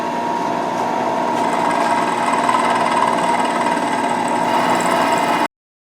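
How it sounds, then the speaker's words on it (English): Machine cutting the first slot in a ceiling camera mount part, a steady close mechanical whir with a constant hum that runs unbroken and then cuts off sharply. "Alright, we're going to cut the first slot."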